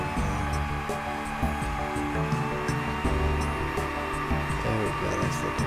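A watchmaker's lathe with a thread cutting attachment spins steadily while a graver cuts and cleans up the workpiece, giving a continuous whirring hum with faint scraping ticks.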